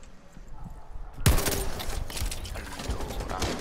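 A sudden burst of rapid gunfire in the video game Rainbow Six Siege breaks out and keeps rattling in quick, dense volleys, loud and close.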